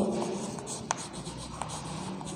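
Chalk or marker scratches and rubs across a classroom board during a biology lecture, making a continuous soft scraping with a couple of sharper taps. It is close and moderately quiet.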